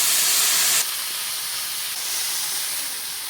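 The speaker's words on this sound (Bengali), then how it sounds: "4 বাটি জল ঢেলে দিলাম। দেখুন বন্ধুরা, ফুটতে শুরু করে দিয়েছে।" Water poured into a hot pan for boiling red amaranth stems with salt and turmeric, a loud steady steam hiss that drops to a softer, continuous bubbling sizzle after the first second.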